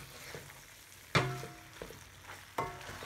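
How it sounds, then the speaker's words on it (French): A spoon works through macaroni salad in a bowl, making soft wet stirring sounds punctuated by two sharp knocks against the side, with no voices. "Brasser tout ensemble pour bien brasser, pour bien mélanger"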